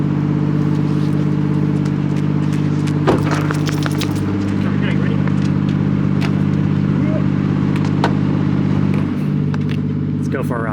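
A Toyota Chaser JZX100 drives along with a steady, loud engine drone and road hum throughout, a few faint clicks and rattles from the cabin on top, and the note dipping slightly near the end.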